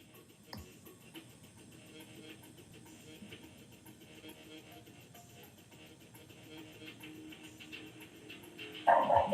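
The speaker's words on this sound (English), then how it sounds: "you can hear my dogs just barking" Several dogs bark and yip in the background of a home livestream, faint and intermittent under a steady room hum, growing louder and closer near the end.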